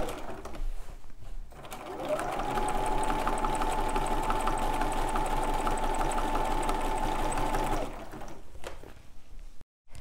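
Sewing machine quilting along a stitch line, retracing an earlier row on a quilt-as-you-go block: a steady, even mechanical whir runs for several seconds, close and fairly loud, with brief pauses at start and end.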